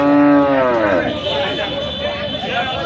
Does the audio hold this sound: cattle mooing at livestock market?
yes